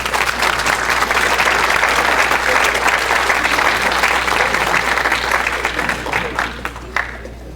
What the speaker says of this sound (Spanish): Y les damos un aplauso.